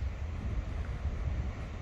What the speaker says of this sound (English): Waves are a bit bigger than I like